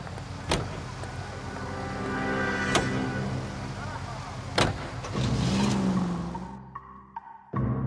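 A car in L.A. Noire drives along with a steady engine hum, broken by a few sharp knocks and a rising whine before the engine sound cuts away near the end.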